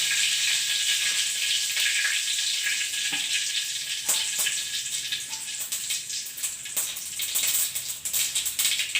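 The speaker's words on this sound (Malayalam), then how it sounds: "ഇതിലേക്ക് നമുക്ക് കുറച്ച് കടുക് ഇട്ട് കൊടുക്കാം. കടുക് ഒന്ന് പൊട്ടട്ടെ." Mustard seeds crackle and splutter in hot oil in a pan for a simple Kerala beetroot stir-fry. A steady, fairly loud hiss carries scattered sharp pops throughout, with no voices.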